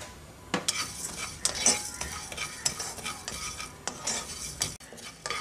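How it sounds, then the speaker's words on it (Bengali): Cumin, fennel and coriander seeds dry-roast in a hot, dry pan, with a spoon stirring and scraping against the metal in irregular clinks over a faint sizzle. "শুকনো গরম কড়াইতে এগুলোকে ফ্রাই করে নিচ্ছি।"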